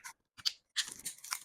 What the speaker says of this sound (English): I'll take my scissors and cut it.